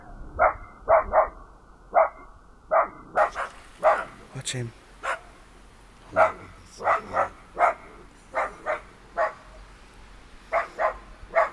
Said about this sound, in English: No, the dogs are barking in the house.